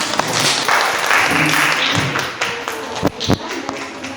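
Students in an Indonesian classroom clap after being asked to, a short burst of scattered applause with a few loud nearby taps and thuds standing out, mixed with murmured voices.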